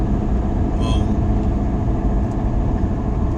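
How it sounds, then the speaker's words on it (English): Steady, loud low rumble and roar of a big pickup truck cruising at 70 mph on off-road tires, the tire and road noise constant and close throughout with no talking. "So my big old truck is kind of loud, huh? I'm doing 70, but the tires, I got off-road tires and all that."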